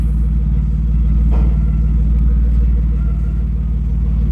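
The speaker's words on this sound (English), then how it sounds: "I'll get a quick video of it started now with that exhaust on." A BMW E36 with a new exhaust idles close by, giving a steady low rumble with a faint burble that holds even throughout.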